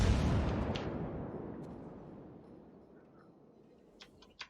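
Heavy naval gun salvo from the battleship USS Missouri in World of Warships: a loud booming blast at the start rolls off into a long fading rumble, followed by a couple of small sharp pops near the end.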